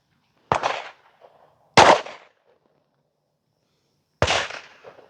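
Three sharp pistol shots from a custom PSA Dagger build with a Strike Industries Lite slide and L2D Combat Systems barrel, fired outdoors at irregular intervals, each loud crack followed by a brief decaying echo.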